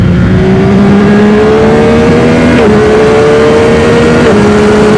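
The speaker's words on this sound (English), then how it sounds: "Holy awesome little motorcycle." A 2025 Yamaha R9 sport motorcycle on a racetrack, its engine loud and close, pulling hard with a rising whine, two brief shifts breaking the climb in pitch.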